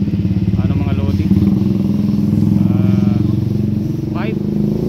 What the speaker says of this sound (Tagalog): Maraming mga motor dito na napaka loud ng